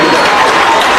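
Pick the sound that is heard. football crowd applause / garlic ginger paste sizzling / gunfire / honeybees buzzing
football crowd applause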